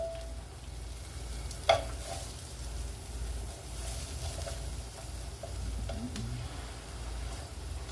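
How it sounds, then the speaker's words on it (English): Peppers and onions sizzling steadily in a small skillet of leftover burger grease, a continuous close frying hiss with a sharp clink of a utensil early on. "I'm going to put in my peppers and my onions"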